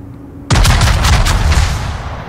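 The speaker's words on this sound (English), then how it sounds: "Me and the other West Virginia on the other team exchange gunfire here" Battleship gunfire in the naval video game World of Warships as two West Virginia battleships trade salvos: after a quiet moment, a sudden heavy booming broadside erupts, with rumbling cannon blasts rolling on and slowly fading.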